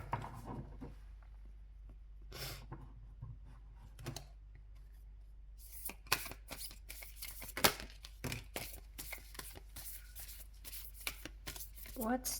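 Tarot cards being shuffled by hand in quick, irregular riffling bursts, close and fairly quiet, with sharp papery snaps in the second half and someone talking in between.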